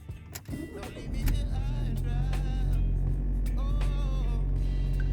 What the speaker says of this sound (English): And now I'm gonna start up the car.